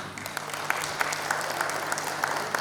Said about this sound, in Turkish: Bir de kendinize alkışlarsanız çok sevineceğim.